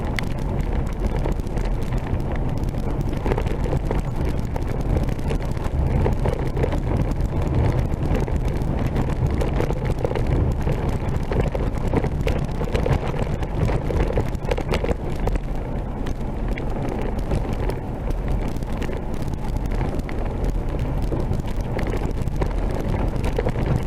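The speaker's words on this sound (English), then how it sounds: "It's gusty. There's like a downdraft." Gusty wind in a desert canyon buffets the microphone as a steady, loud, rumbling roar that hardly lets up over the whole stretch.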